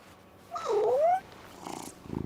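A cat in the video game Double Exposure gives a short rising meow-like purr, followed by a quieter rumbling purr, with no talking.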